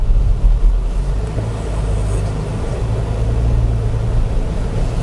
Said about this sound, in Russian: То есть вы поняли, да, почему эта пробуксовка сейчас была? Она позволяет на песке чуть-чуть буксануть